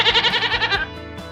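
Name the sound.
goat bleating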